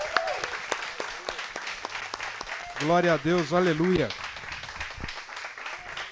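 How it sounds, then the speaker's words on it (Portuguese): Church congregation at a consecration service clapping for Jesus: sustained crowd applause throughout, with a voice loudly praising over it in the middle. "Você consegue agora dar uma salva de palmas para Jesus?"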